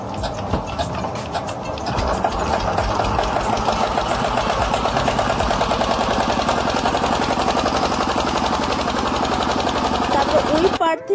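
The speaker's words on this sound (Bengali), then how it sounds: "দেখো, মোটরটাকে চালু করে তারপরে যাবে।" A motor boat's engine starts up during flooding and settles into a fast, steady mechanical chugging that runs on, fairly close, with a voice heard over it.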